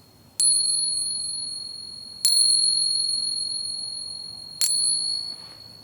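Three separate taps of a Peace dollar against a 1921 Morgan dollar, both 90% silver coins, each giving a bright, clear bell-like ring that sustains and slowly decays in a quiet room.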